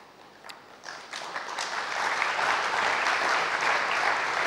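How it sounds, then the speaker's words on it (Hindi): Audience clapping at the end of a spiritual talk, building from a few scattered claps into steady, dense applause that fills the room and holds loud until the end, with no voices over it. "ताली किस लिए बजाई? समाप्ति के लिए।"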